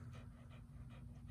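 A dog pants rhythmically close by, quick regular breaths over a low steady background rumble, with no talking.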